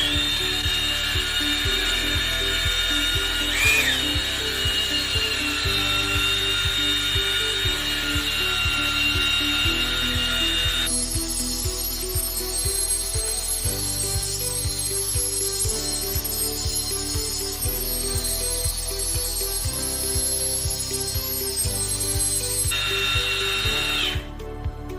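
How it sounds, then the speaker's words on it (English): A power-drill-driven mixing paddle churns Mascoat Industrial DTI insulating coating in a pail, a steady loud motor whine with grinding, scraping texture that shifts in pitch as the paddle moves, continuous for the whole stretch without talk. "You can loosen up the material by inserting and removing the mixing paddle multiple times."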